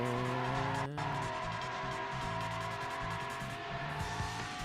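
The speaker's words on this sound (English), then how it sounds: "This car sounds really nice." Steady engine purr of a race car in the PS2 game Need For Speed: Hot Pursuit 2, with layered humming tones that hold and shift slightly and a brief sharp burst near the start, with no talk over it.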